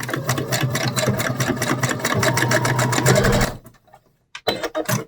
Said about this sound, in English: then you're going to just sew this together